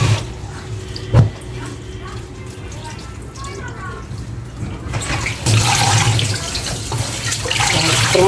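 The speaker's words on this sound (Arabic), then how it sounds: "تغسليها كده بحيث ان هي ايه، لو فيها رمله بتنزلها، فيها اي حاجه بتنزلها" Molokhia leaves are washed under a running kitchen tap, a steady splash and hiss of water that grows louder midway, with someone talking over it and a brief knock near the start.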